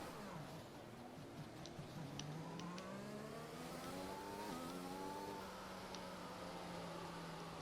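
Formula 1 cars idle and rev on a formation lap in a racing video game at a French circuit, engine tones rising and falling together in a layered, steady drone at moderate distance, with no talk over it.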